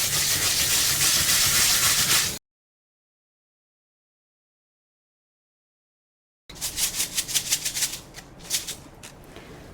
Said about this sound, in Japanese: 米を水で洗うんですけど、それを米を研ぐと言います。